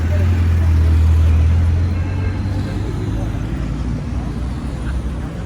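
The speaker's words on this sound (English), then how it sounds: "There are a lot of cars." Night traffic on a city street in Kyiv: a continuous low rumble of many passing cars, loudest at first and then easing to a steady wash, with someone talking over it.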